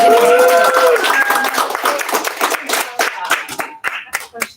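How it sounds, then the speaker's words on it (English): Audience at a university thesis colloquium giving a round of applause, clapping that starts fairly full, then thins into scattered individual claps and fades out, with a brief musical tone and some talk early on. "I think we need to give one initial round of applause for Bria coming up at the very last year."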